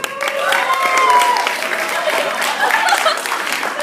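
A school audience of scholars cheers and applauds for a champion at a classroom or assembly contest, a dense, steady wash of clapping and crowd noise lasting throughout, with a loud swell near the start.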